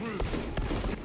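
A bolt carbine fires in Space Marine II, a few sharp shots under a busy wash of game noise, with a voice talking through the brief moment.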